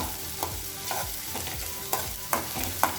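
Finely chopped onion frying in oil in a pan for Malabar coconut rice: a constant sizzle broken by several sharp, regular stirring scrapes of a spoon against the pan, no talking.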